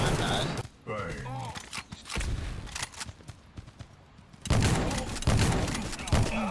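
Bursts of gunfire from the mobile shooter game Guns of Boom crackle in and out, loud clusters separated by quieter stretches, with game effects mixed in.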